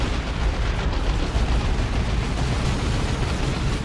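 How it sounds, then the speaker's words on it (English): Ork stick bombs exploding amid battle in the video game Dawn of War 2: a dense, continuous rumble of blasts and booms, loud and steady throughout. "Here comes a Kommando though with some stick bombs."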